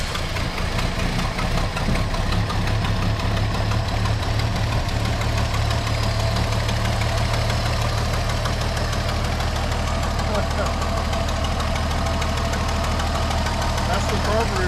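A barn-find 1973 Dodge Dart Swinger V8 idles roughly and steadily nearby for the whole stretch, with a knocking, uneven carburetor-driven rumble.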